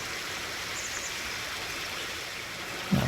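A pressure washer sprays water over a dirty tractor in Farming Simulator 19, a steady hissing rush that stays even and fairly close, with a small clunk at the end.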